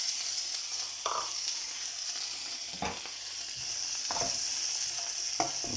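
Carrots and peppers stir-fry in a hot pan for chicken and prawn in black bean sauce, a steady sizzle broken by several brief scraping stirs of the spatula, close and alone.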